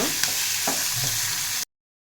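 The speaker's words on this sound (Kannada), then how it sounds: "ಅದನ್ನು ಕೂಡ ಫ್ರೈ ಮಾಡ್ಕೊಳ್ಳೋಣ ಒಂದು ಸ್ವಲ್ಪ." Close sizzling of coriander leaves frying in a hot pan, with a couple of soft scraping stirs, cutting off abruptly after under two seconds.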